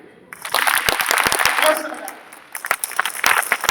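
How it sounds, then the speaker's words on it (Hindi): An audience at a function in Indore claps in scattered bursts, sharp hand claps over a noisy hall wash, with quieter gaps between louder stretches of clapping. "3 ताली बजेगी"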